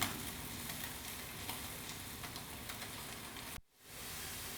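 Pork sizzles steadily in a hot pan, a dense, even crackle that holds without a break, drops abruptly to near silence for a moment, then comes back just as steady.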